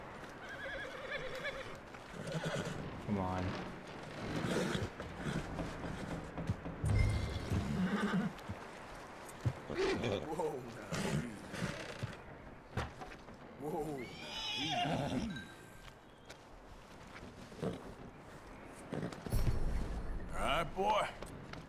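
Horse whinnies and clip-clopping hooves in the video game Red Dead Redemption 2 come through amid game sounds, with a person talking over much of it.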